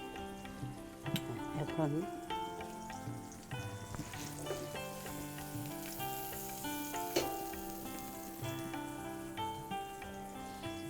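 Butter sizzles and crackles steadily in a frying pan, a continuous close frying hiss with small pops, while someone talks briefly over it.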